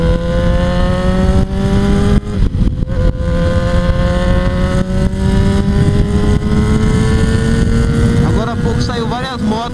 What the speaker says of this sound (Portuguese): Agora vamos dar uma acelerada aqui.